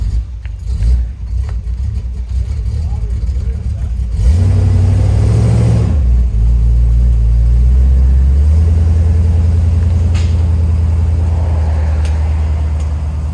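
A 1978 Buick Regal fitted with headers idles with a loud, deep rumble, then revs hard for a couple of seconds before settling back into a steady, throaty idle close by.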